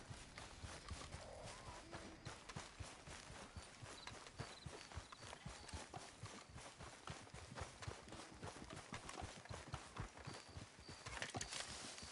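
A horse gallops steadily in Red Dead Redemption 2, its rapid, rhythmic hoofbeats drumming continuously and close, fairly quiet under a faint ambient bed.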